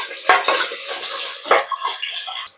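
A utensil scrapes and clinks against a pan as onions are stirred while frying, with a few distinct metallic scrapes over a soft background sizzle, close and fairly loud.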